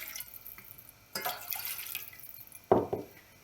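A measured glass of water is poured into a pot for lenten dough, two short splashing pours a little over a second apart, each a close bright gush that quickly trails off, over quiet kitchen background.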